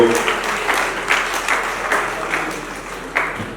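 An audience at a church gathering claps for Jesus in sustained, loud, dense applause from many hands, with brief louder swells and a faint voice underneath.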